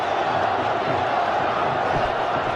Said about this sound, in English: you just hear the home crowd getting behind Fakhar